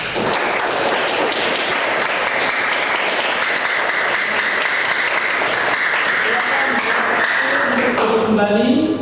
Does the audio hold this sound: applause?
yes